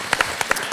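A short burst of audience applause, a handful of sharp, distinct claps over a soft wash of room noise, lasting under a second.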